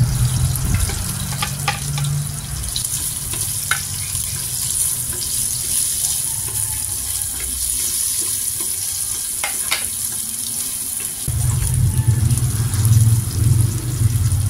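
Onion and garlic sautéing in a clay pot for squash and long beans in coconut milk, a steady sizzle with scraping stirs throughout, growing louder and fuller near the end.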